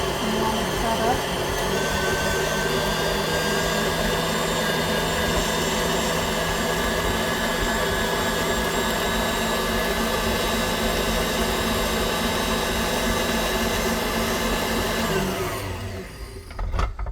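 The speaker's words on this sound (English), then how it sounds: "I'll let the mixer run for a while to get it all nice and creamy" Electric mixer whirring steadily as it beats butter, sugar, milk, vanilla and cocoa frosting for a German Nuss Torte, a loud continuous motor drone that holds even before winding down at the very end.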